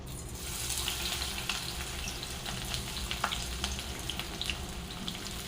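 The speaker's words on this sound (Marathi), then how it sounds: "तेल आपलं चांगलं गरम झालेलं आहे यामध्ये आता आपण कांदा घालून घेऊया" Chopped onion fries in three spoons of hot oil in a pan, a steady dense sizzle and crackle running throughout at moderate level, close by, with no voices.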